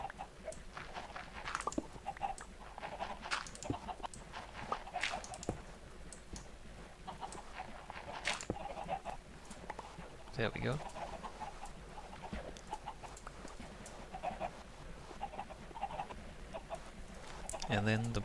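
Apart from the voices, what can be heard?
chickens clucking in the video game Minecraft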